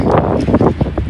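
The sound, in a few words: wind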